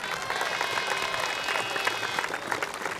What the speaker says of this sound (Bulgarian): аплодисменти за ОФК Несебър и община Несебър